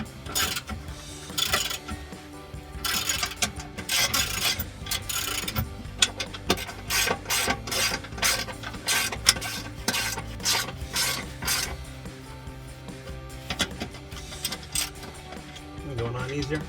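Ratchet wrench turning a rusty nut on a Jeep Wrangler TJ exhaust, with repeated close clicking bursts and metallic scraping in an uneven rhythm.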